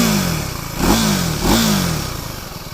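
A KTM Duke 390 motorcycle idles through its exhaust, then gets two sharp throttle blips that rev up and settle back, close and fairly loud, with no talking.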